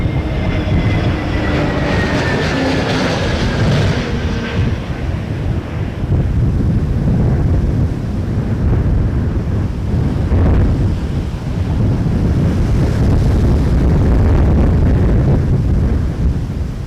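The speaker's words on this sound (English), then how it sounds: "That was the wind blowing my camera off the ground." Strong gusty wind at Toronto Pearson Airport roars and buffets the camera microphone in continuous loud rumbling waves, with a faint whine of distant aircraft early on.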